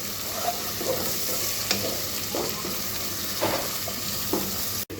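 Steady crackling sizzle of onions and spices frying in oil for a beef curry, with a few soft stirring scrapes and clinks of a utensil against the pan; no talking.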